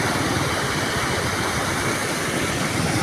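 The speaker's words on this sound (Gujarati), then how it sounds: "તો મિત્રો ફૂલ નદી વહેતી થઈ ગઈ છે માલણ નદી મહુવાની" The flooded Malan river at Mahuva rushes past in a loud, steady roar of broadband water noise with no pauses.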